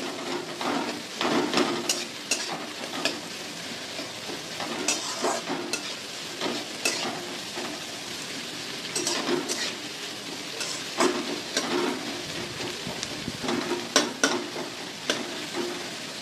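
Sliced onions sizzle steadily in a modest amount of oil for a lightly spiced Bengali fish curry. Repeated stirring scrapes and clatters sound close up through the frying, with no one talking.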